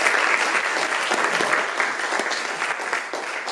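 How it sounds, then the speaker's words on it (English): An audience at an environmental science department toast event applauds steadily, a dense wash of clapping sustained through the whole stretch and easing slightly near the end. "Big round of applause for them."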